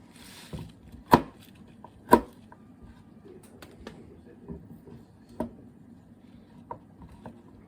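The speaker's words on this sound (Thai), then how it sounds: "อันนี้ก็จะตัดแบบนี้เลยนะคะ ตัดไปแบบนี้เลย" Fresh garden vegetables are cut by hand: a few sharp, close chops or snips ring out alone at irregular intervals, two louder ones early, then softer ones spaced apart, over quiet background.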